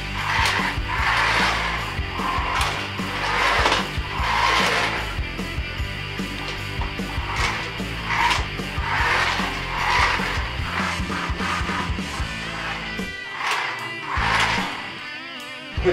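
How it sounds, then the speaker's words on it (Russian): A Maisto Twist and Shoot remote-controlled transformer toy car drives nearby, its small electric motor giving a steady whirring buzz with a rattling plastic clatter and periodic surges as it moves and turns. "Сейчас покажем, как ездит машинкой."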